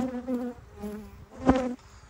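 Honey bees buzz around a hive during a spring colony split, a near, fairly faint droning hum that swells briefly into a louder pass before easing off.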